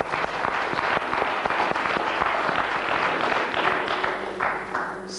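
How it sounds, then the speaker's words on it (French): Steady, fairly loud applause from a TV game show studio audience, sustained clapping with no voices standing out. "on l'applaudit maintenant"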